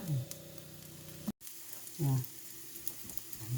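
Asparagus stir-frying in a pan, a soft sizzle with scraping stirs and a few brief low voice-like bursts, cut by a short silent break partway through.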